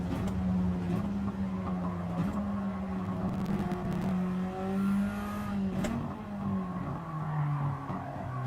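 A race car engine in a no-assist racing video game drones steadily and loudly throughout, pitch rising and falling with throttle and gear changes, with a faint whir from another passing car and no talking.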